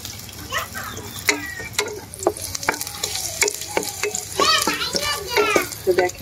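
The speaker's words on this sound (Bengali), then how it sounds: "লাল লাল করে ভেজে নিতে হবে।" Ingredients for a baby's khichuri are frying in a kadai over a lowered flame, with a steady sizzle and repeated stirring scrapes and clinks of a spoon against the pan, close and continuous throughout.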